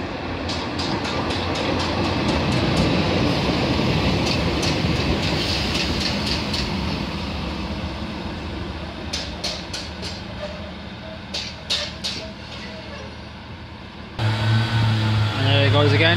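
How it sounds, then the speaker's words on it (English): A Class 142 diesel train heading to Doncaster rolls through Ferriby station with a continuous loud rumble and rhythmic clickety-clack of wheels over rail joints, gradually easing as it passes. "Yeah, this is the Doncaster train."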